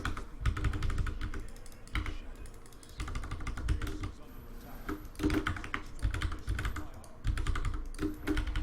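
Rapid typing on a computer keyboard during a StarCraft match, with dense, close clicking in quick bursts and brief pauses, heard under talk throughout.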